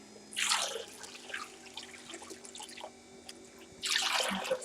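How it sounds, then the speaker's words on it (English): Water is poured into a bucket in two splashing bursts, one at the start and one near the end, with scattered drips and small knocks between them. "Put some water in the other bucket as well."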